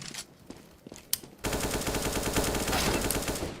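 A rapid burst of automatic gunfire plays in the mobile shooter game CSGO Mobile, a dense sustained rattle after a few scattered shots and clicks, loud and close, with no talk.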